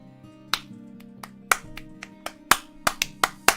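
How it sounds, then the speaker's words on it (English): Several sharp hand claps ring out at uneven intervals, close and crisp, over a low sustained hum of background noise. "Clap sync in 3, 2, 1."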